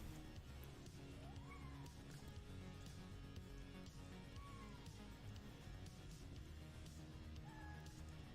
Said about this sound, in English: I've got a cat trying to get my attention.